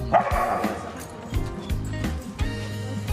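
Dog barking during a dog training session, a few yipping barks heard amid noisy surroundings and sound from other dogs.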